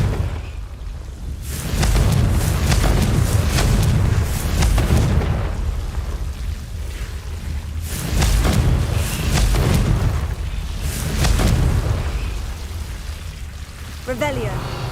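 Confringo fire spell blasts in Hogwarts Legacy, three or four heavy booming bursts a few seconds apart, each a loud rumbling surge that swells and fades.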